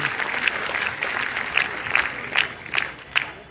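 Applause rises from the audience at the Government Boys Model Higher Secondary School annual day celebration in Rajouri, a steady wash of many hands clapping with scattered sharper claps standing out throughout.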